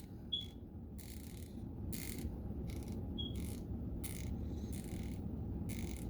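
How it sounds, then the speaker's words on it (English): A Capri Tools 90-tooth soft-grip ratchet ticks off three or four short bursts of fine, rapid clicking, each followed by a pause, heard close against a steady low background hum. "And now listen to the Capri."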